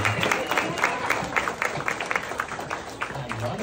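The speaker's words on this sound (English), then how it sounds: "Give them a big round of applause." Applause greets models on the runway at a special needs fashion show, with a crowd clapping at moderate volume and a voice speaking over it.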